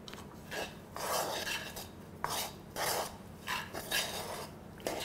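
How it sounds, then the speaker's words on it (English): A spoon scrapes and stirs Cajun seasoning into softened vegetables in a skillet, giving repeated close, raspy strokes against the pan in an uneven rhythm. "I'm going to put over my softened vegetables and stir that in"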